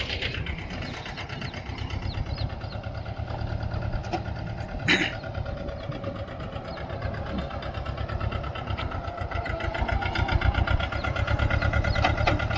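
A mini tractor engine runs steadily while spraying a groundnut crop, a continuous near, loud mechanical drone with a brief knock partway through.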